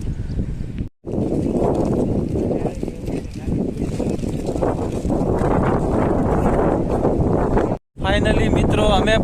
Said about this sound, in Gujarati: ખૂબ સરસ પવન આવે.